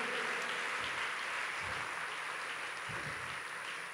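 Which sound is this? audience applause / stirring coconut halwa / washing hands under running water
audience applause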